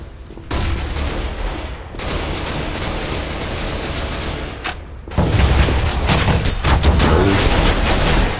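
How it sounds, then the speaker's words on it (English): Counter-Strike office-map gameplay with dense gunfire and bursts; a flashbang grenade pop fits amid the loud, continuous battle noise, which surges louder after a brief dip. "Flashbang."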